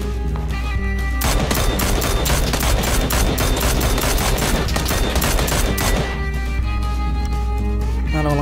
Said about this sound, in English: The way that man was shooting at me with such contempt.